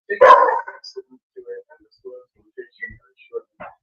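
A big dog gives a single loud, close bark at the start, followed by scattered quieter yips, whimpers and small noises with gaps of near-silence between them.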